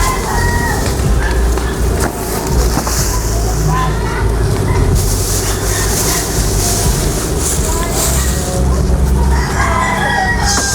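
Chickens cluck and a rooster crows amid a busy, noisy scene, loud and close, with people talking over the birds throughout.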